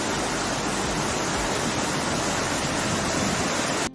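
Floodwater rushes through the streets of Catania, Sicily during a severe summer storm, a dense, steady roar of moving water that stays loud and unbroken from start to finish before cutting off abruptly.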